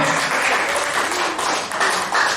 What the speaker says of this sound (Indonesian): Tepuk tangan yang meriah bagi Tuhan kita